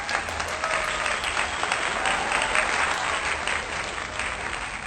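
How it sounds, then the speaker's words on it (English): Steady applause from a studio audience at a casual Q&A talk show, dense clapping that holds loud and even for about five seconds with no voices over it. "I would like a round of applause for that."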